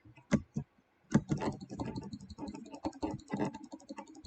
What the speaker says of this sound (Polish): Sorry, jak będzie yy, klawiatura głośna, ale ja po prostu taką mam.